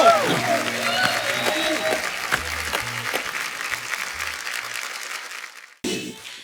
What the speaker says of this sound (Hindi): जोरदार तालियां एक बार सबके लिए।